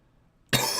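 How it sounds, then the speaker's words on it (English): A single sharp cough bursts out loud and close after half a second of near silence, trailing off briefly at the end. "What's going on with this random cough?"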